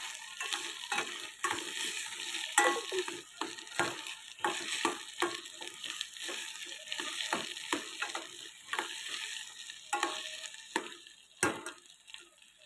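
Cashew nuts fry in a pan for vegetable rice, a light crackling sizzle broken by frequent scraping stirs and small ticks, moderately close and without speech.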